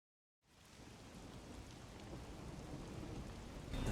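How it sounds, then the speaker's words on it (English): Steady rain in the detective video game Rain Code starts abruptly after a brief silence, then keeps up as a dense, even hiss of falling water that grows slightly louder toward the end. "The faint sound of a ticking clock melts against the sound of rain."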